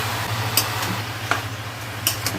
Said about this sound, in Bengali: লাউটাকে ছেড়ে দিচ্ছি, আদা বাটা দিচ্ছি